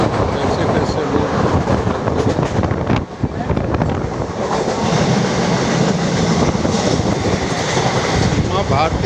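A Mumbai train rolling along its rails, with a loud, steady rumble and rattle, heavy wind buffeting the microphone throughout.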